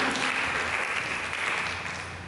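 A church congregation claps together in a steady, dense wash of applause that fills the room, holding strong before easing slightly toward the end.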